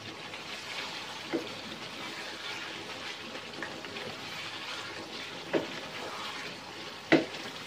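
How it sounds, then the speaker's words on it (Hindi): Chicken karahi sizzles in oil in a pan, a soft steady frying hiss with a few brief clinks of a spoon against the metal. "इसको आप अच्छी तरह भून लें।"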